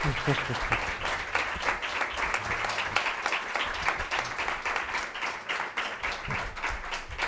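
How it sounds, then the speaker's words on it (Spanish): An audience applauds at the end of a lecture in a memorial talk series, steady sustained clapping from a large crowd at moderate distance, continuing evenly for several seconds. "Aplausos"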